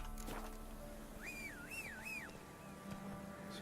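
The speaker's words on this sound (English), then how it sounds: "Whistle right up in this guy's face." A character in The Witcher 3 gives a short melodic whistle with a rising and falling pitch, lasting about a second, over steady quiet in-game ambience.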